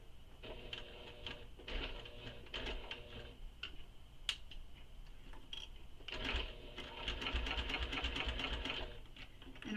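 A sewing machine stitches a handbag seam in slow, careful bursts, its mechanical ticking starting and stopping with short pauses between runs, close and moderately quiet.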